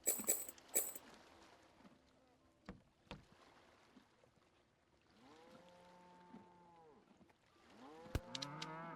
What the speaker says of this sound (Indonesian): Oke, sapi potong.